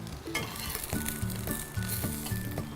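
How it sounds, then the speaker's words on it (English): Green cabbage stir-frying in oil over a high flame for a Cantonese vegetable dish, with a steady loud sizzle and rhythmic scraping clinks of a utensil tossing the leaves in the pan, no talking. "toss it on a high flame for a minute or 2"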